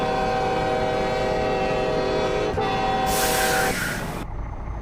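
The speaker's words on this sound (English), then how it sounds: "I'll let you hear the horn outside the truck" A truck horn in Euro Truck Simulator 2, heard from outside the vehicle while stopped at traffic lights: a loud, sustained multi-tone blast lasting about three seconds, then a brief hiss as it cuts off.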